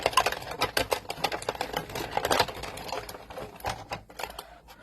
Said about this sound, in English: we're going to put it through the die cut machine